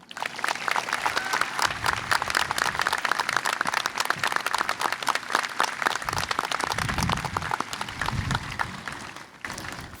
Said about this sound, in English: please give a round of applause for Travis Garcia and Daniel Clover